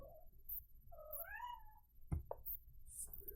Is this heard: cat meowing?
yes